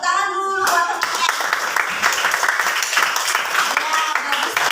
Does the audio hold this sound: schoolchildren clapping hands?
yes